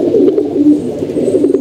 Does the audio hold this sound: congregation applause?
no